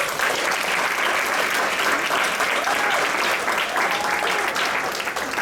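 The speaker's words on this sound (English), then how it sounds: "Why don't we make these claps extra crispy?" Audience applause filling the room, dense, continuous clapping from a large crowd at close range, steady and loud for the whole stretch with no speech.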